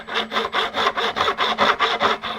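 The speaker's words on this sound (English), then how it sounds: "That will grind the fret back closer to the edge of the fretboard." A metal file rasps across guitar fret ends at a bevel along the fretboard edge, nine even back-and-forth strokes in a steady rhythm, close and clear with no talk.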